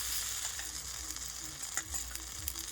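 Rice and chana dal batter sizzles as it fries in white oil with sesame seeds in a pan, a steady close crackle with a few faint clicks.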